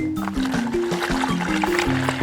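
Water is poured back over soaked agira husk during filtering, a steady close splashing and trickling of liquid with a low tonal hum running underneath.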